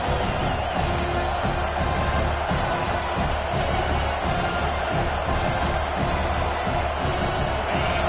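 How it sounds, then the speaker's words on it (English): A stadium crowd in the NCAA 26 football video game roars in a steady, dense wash of cheering and noise that never lets up, with no clear voices above it. "And the crowd coming to life here, trying to help this defense down in the red zone."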